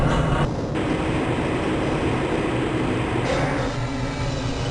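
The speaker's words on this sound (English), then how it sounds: "This train is inbound from the Area 8 topside dormitories to the Central Transit Hub in Area 9." An inbound transit train in the game Half-Life: Blue Shift rumbles steadily along its track inside the Black Mesa compound, a loud, continuous low roar and rattle with a brief shift in tone partway through.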